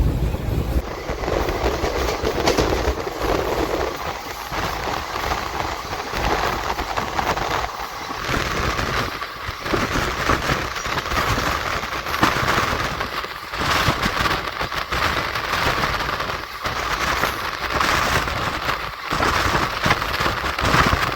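A daily Krishna Express passenger train, an old train, runs steadily at speed on the way to Tirupati, with a continuous loud rumble of wheels and wagons and a faint rattling clack throughout.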